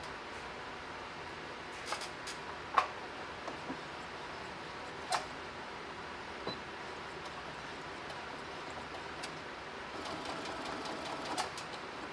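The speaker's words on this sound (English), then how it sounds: "I'm just gonna sew this close and I will be complete." Sewing machine stitching a pillow closed, a soft steady mechanical whir heard close up and quiet throughout, with a few light clicks and taps along the way.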